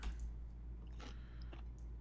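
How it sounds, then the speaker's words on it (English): Wet, crunching chewing right up against a phone microphone, steady mouth noises with a few sharper bites over a constant low hum, with no talking. "I'm chewing."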